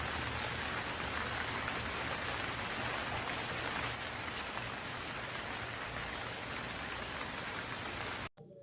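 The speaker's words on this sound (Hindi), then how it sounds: "एक रात बहुत ज़्यादा बारिश हो रही थी और बिजली भी चमक रही थी।" Heavy rain pours in a dense, constant hiss without pause, steady and close throughout.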